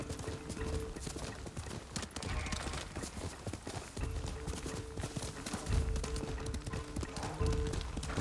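Horse galloping in the video game Ghost of Tsushima, rapid rhythmic hoofbeats pounding steadily throughout at moderate volume, with soft game ambience and faint voice fragments underneath.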